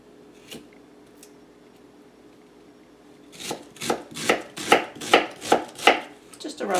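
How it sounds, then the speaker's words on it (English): Vegetables for kielbasa and cabbage being roughly chopped with a knife on a cutting board, a quiet start and then about ten sharp, evenly spaced chops, loud and close. "Just a rough chop."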